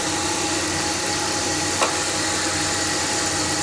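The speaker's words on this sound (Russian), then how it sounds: "Двигатель хорошо прослушивается" A car engine running under the hood, checked by ear for whistling and knocking, a steady, close, dense mechanical hum and clatter, continuous with no talk.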